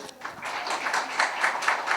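An audience claps steadily at a course closing ceremony, a dense, even patter of many hands lasting a couple of seconds.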